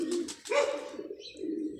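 A pigeon standing on a rooftop gives low, throaty coos, two rolling phrases close by, with a brief faint chirp between them and no talk.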